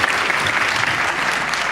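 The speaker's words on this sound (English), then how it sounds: "Everybody shouldn't clap, remember what was asked of us." Audience at a public environmental hearing in New York City breaks into steady, dense applause, a loud continuous wash of many hands clapping.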